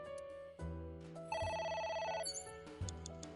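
A telephone rings in a video game, an electronic ringing in repeated bursts with a layered tonal chime, steady and fairly quiet with no talking.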